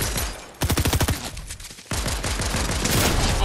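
Rapid automatic gunfire in Fortnite, loud close bursts of evenly spaced shots, a brief pause, then a longer dense stream of fire continuing to the end, with no talk.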